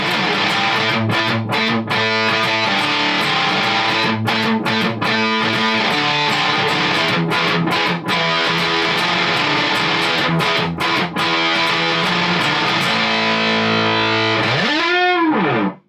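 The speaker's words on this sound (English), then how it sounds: "How about an octafuzz?" A Rickenbacker 330 Mapleglo electric guitar through an Octafuzz pedal plays a riff with an octave-up buzz, loud and saturated, with rhythmic stabs and sustained notes that end in a pitch-bending swoop.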